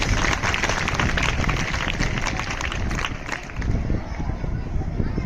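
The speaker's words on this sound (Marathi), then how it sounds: "अरे टाळ्या तर वाजवा" An audience claps and cheers at a taluka-level kho-kho tournament, producing dense, continuous applause with crowd noise throughout.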